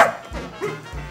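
An English setter gives a few short, close woofs and yips in quick succession, with nothing else around them.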